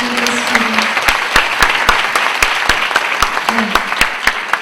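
A church congregation at a Korean college-group worship service claps loudly and steadily, with sharp individual claps standing out and a few cheers rising over the dense applause.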